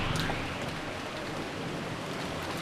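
Heavy, continuous rain from the Umineko visual novel pours in a dense, even hiss that fills the whole stretch, close and steady with no voices.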